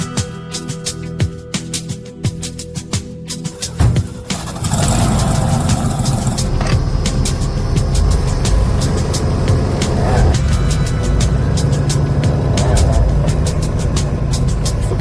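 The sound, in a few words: Roadkill mullet car engine idling and driving off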